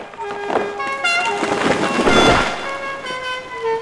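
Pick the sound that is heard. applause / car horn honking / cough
car horn honking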